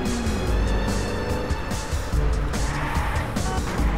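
A car weaves through a slalom in the video game Wheelman with a loud, constant engine roar and repeated tire squeals and skids as it swerves back and forth.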